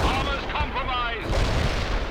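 Mortar fire in the World in Conflict video game, a dense, continuous rumble of explosive booms with speech over the battle noise.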